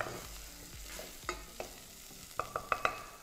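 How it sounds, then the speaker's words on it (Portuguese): Onion and garlic frying in a pan for an autumn risotto, with a soft constant sizzle under scraping stir strokes and a quick run of sharp utensil clinks near the end. "Então vamos fritando bem a cebola e o alho."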